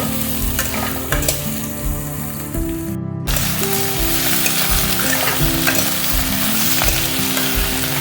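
Onion fried in a hot pan for a Malabar spinach seed and prawn curry, loud, dense sizzling under steady stirring strokes, with a brief drop-out midway before the frying hiss comes back strong.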